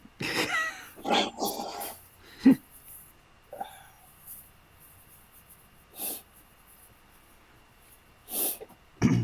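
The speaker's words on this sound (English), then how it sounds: "I'm gonna blow my nose." Several short, forceful nasal blasts come in separate bursts with quiet gaps between them, close to the microphone.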